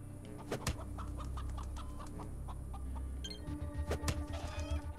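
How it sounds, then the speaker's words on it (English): Chicken clucking in the ATOM RPG video game: a few short, bright clucks and calls over a steady low in-game ambient hum, with a burst of louder activity near the end. "I want to talk with the chicken."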